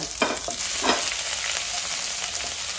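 Dried red chili and curry leaves frying in hot oil for buttermilk rasam, a steady close sizzle with a couple of brief stirring scrapes early on, no voices.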